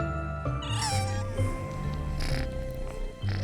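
A shadow fox creature in the video game Near-Mage gives several cat-like meows and mewling cries over steady background game music.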